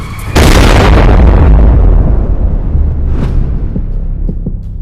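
An asteroid strikes Earth as a sudden, huge explosion, with a sharp onset followed by a long rumbling roar that slowly fades, plus a few scattered later pops.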